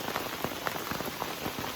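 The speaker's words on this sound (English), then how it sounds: "Still raining." Steady rain patters on a shelter top in a Maine woods camp, dense and close, with brief sharper drops striking at irregular intervals and no voices.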